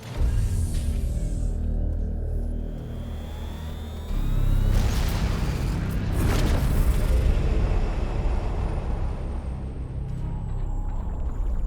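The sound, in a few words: explosion inside ship, from video game Warhammer 40k: Chaos Gate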